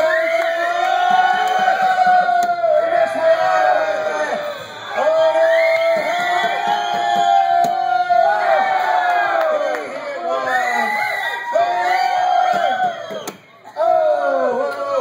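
A crowd at a cornhole throw for money screams and cheers loudly in repeated surging waves, with whoops and shouts rising and falling over about fifteen seconds.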